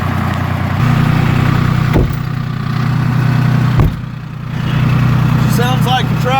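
A two-stroke diesel Toyota engine runs after a cold start, a loud rough low idle with steady chugging and a couple of sharp knocks, a brief dip in level, then settling back; no talk over it.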